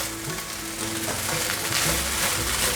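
Shiitake mushrooms stir-fried with black pepper in a hot pan, a loud, continuous sizzle with the scrape of stirring running through it, close up and without voices.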